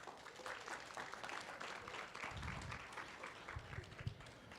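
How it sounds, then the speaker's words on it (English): A symposium audience applauds steadily throughout, a dense wash of clapping with a few louder bursts near the end. "Give yourselves a big round of applause."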